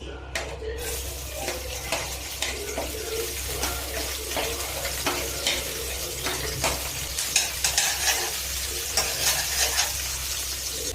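Garlic and green chillies frying in a kadai, a steady close sizzle with scattered stirring scrapes and clinks of the pan throughout.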